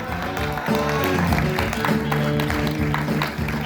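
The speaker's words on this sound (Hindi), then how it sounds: "जोरदार तालियों से स्वागत करें।" An audience applauds loudly and steadily to welcome a ranker onto the stage at a 15th August celebration, dense continuous clapping from a crowd with music or hum underneath.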